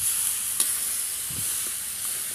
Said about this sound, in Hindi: अभी ये चिकन डाल के बहुत मस्त भूज रहे हैं इसको, अच्छी तरह से फ्राई कर रहे हैं इसको।